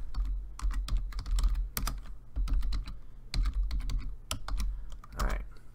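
Rapid, uneven keystrokes on a computer keyboard, close and clear, clattering in short bursts with brief pauses between them, with no talking over the typing.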